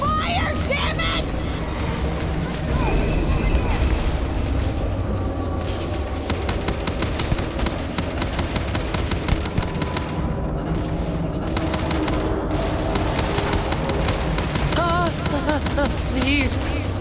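Rapid bursts of gunfire from the video game Starfield crackle almost continuously, loud and dense, mixed with game effects and voices shouting over the shooting.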